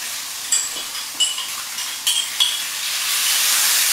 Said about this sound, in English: And then it's sizzling.